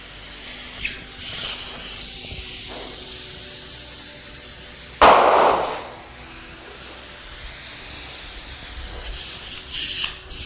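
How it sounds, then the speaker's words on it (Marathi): A steady hiss of escaping steam from a cold pressure cooker's whistle runs throughout, with one sharp, louder burst of release midway before settling back to a constant hiss. "थंड कुकर आहे, शिटी वाजते आहे."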